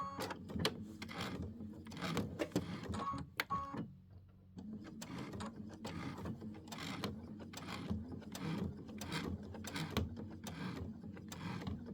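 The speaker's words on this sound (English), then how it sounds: "I rather use my sewing machine, right, than hand sew." A sewing machine runs in bursts, its motor whirring with rapid mechanical clatter that pauses briefly, then resumes steadily.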